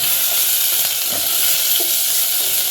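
Brinjal sautéing in a pan for sambar gives a dense, steady sizzle. It stays close and even throughout, with faint stirring knocks underneath.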